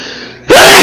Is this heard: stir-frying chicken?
no